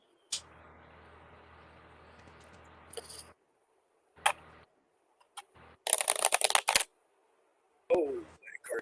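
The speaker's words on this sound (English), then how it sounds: "Let me go ahead and shuffle." Playing cards are shuffled in a quick rattling riffle, with scattered soft taps and clicks before and after.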